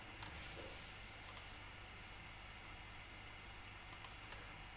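Soft clicks of a computer keyboard as code is typed, faint and intermittent with scattered sharper key taps, no talking.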